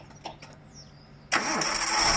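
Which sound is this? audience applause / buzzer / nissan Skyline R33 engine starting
nissan Skyline R33 engine starting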